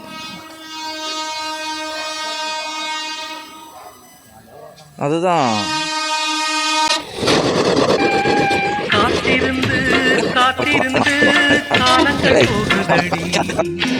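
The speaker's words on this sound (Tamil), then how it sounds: "ட்ரெயின் வருது ஆண்டி." A train horn blares in long sustained blasts, then the rumbling clatter of a passing train grows loud and close, with a voice speaking briefly.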